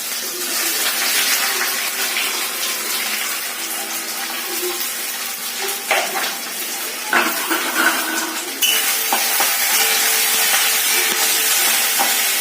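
Onion sizzling in hot oil with black cumin seeds, a steady dense crackle and hiss throughout, loud and close, with a brief burst of louder spattering partway through.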